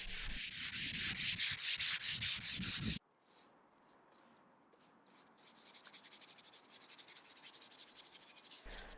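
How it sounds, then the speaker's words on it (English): Steady back-and-forth rubbing of a fine sanding sponge on wooden doors, loud and rhythmic at first, then a brief pause before lighter strokes resume. "I used a fine sanding sponge to get the doors ready for oil"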